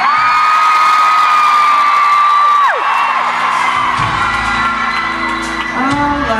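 A huge arena crowd at a concert in London cheers and screams loudly and continuously, a dense roar of whoops from the stands that holds steady throughout.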